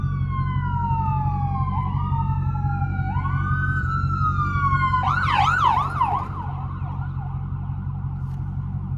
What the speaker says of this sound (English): And the ambulance is behind us.